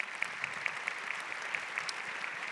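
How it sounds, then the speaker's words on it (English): An audience at a women-in-leadership talk claps in a brief, fairly distant round of applause, an even patter of many hands with no voices over it. "let's give them a round of applause"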